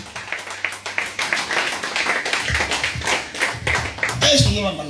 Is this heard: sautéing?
no